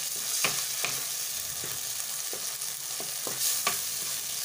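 Potatoes fry in a spice masala, a steady close sizzle broken by repeated scraping stirs of a spoon against the pan, several distinct strokes spread irregularly throughout, with no talk.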